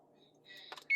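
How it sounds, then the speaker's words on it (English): An oven timer alarm sounds in a home kitchen, a thin electronic beeping tone rising out of a low hum, fairly faint and close, cut short by a louder burst at the end. "That's the alarm going off."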